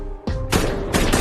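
Gunfire in an action film, with dense bursts of shots and booming blasts overlapping in quick succession, loud and close.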